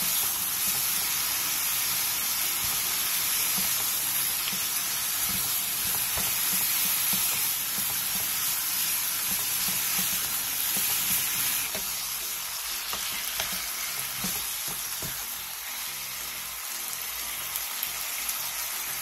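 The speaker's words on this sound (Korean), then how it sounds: "고기의 겉면이 어느 정도 익었으면 양파와 당근, 양념장을 넣고 중불로 줄여 고기를 완전히 익혀주세요" Pork sizzling in a pan with onion, carrot and seasoning sauce over medium heat, a dense continuous hiss with scattered stirring scrapes, easing slightly toward the end, close by with no speech.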